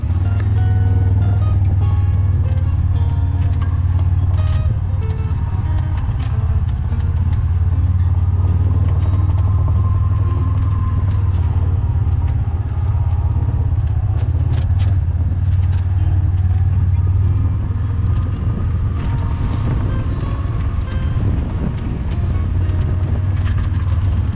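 A Kubota 850 utility vehicle drives along a wooded trail, its engine droning steadily up close for the whole ride under rattles and bumps from the terrain.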